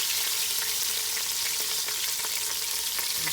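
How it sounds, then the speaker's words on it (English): Meat sears and sizzles steadily in a hot pan, a loud, continuous frying hiss with faint stirring clicks and no talking. "So we're just browning it on all sides."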